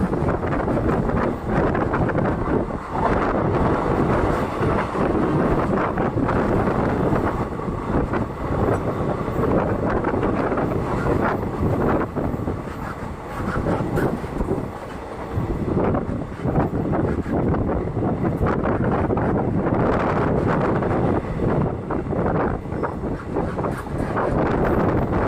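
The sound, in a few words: train running from Punalur to Nagercoil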